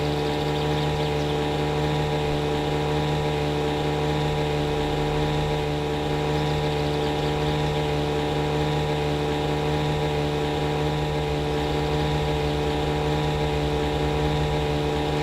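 A steady, droning boat engine in the video game My Summer Car hums continuously with a rich low harmonic tone, loud and unchanging throughout, no voices.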